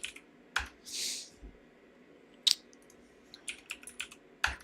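Computer keyboard typing in short bursts of sharp, close clicks, with scattered single keystrokes and brief pauses between them, heard alone without any voices.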